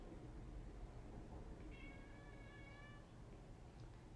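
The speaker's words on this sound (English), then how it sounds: "Can you guys hear my cat crying?" A cat cries from outside a locked bedroom door, one faint drawn-out meow under a steady room hiss.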